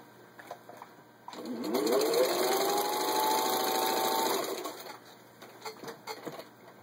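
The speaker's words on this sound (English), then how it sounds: "just to show you how well the machine runs" A vintage 1951 Singer 15-91 anniversary sewing machine stitching through layers of denim, its motor whirring up to a steady fast hum for about three seconds before winding down, with quieter mechanical ticking before and after.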